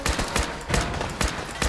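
Rifle gunfire in Fallout 4, fired in a rapid sequence of sharp, loud shots and short bursts with brief pauses between them.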